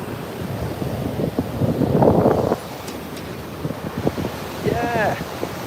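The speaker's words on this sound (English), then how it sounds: "Listen to these waves." Ocean waves break and wash up on a shore, loud and close, with gusts of wind buffeting the microphone.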